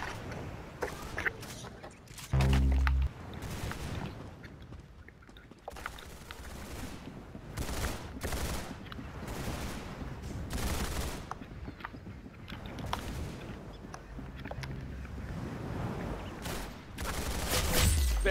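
Bursts of gunfire in the Roblox video game, sharp broadband shots in uneven clusters and single cracks spread across the stretch, with quieter gaps between volleys.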